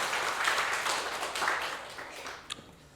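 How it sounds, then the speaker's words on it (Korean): Church congregation clapping for a choir, a dense burst of applause from a crowded sanctuary that swells and then tapers off near the end. "우리 시온 찬양대에 다시 한번 박수 한번 보내주시기 바랍니다."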